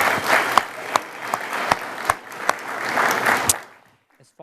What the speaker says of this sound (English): let's give our city staff a round of applause